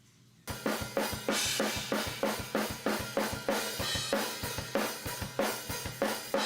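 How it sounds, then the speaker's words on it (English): A heavily compressed drum loop from a Pro Tools mix pumps steadily after a short quiet lead-in, with punchy, crushed kick and snare hits in a driving even rhythm, loud and dense with no talk. "I basically compressed the heck out of the drums"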